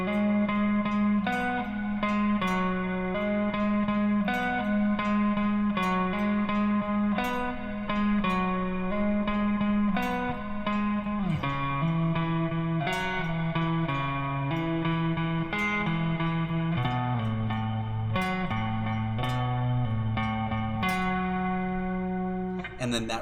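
Electric guitar picking arpeggiated chord shapes from a song, a steady run of ringing plucked notes with clean effects, played continuously and moderately loud with no talking.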